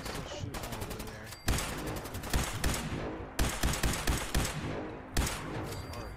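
Rapid bursts of gunfire from a Fallout 4 firefight, loud sustained volleys with sharp separate shots breaking through, no one talking.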